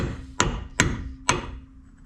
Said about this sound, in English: We're going to have a hammer, smash off this cap.